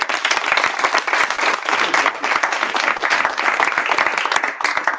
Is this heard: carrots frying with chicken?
no